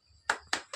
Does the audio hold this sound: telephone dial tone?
no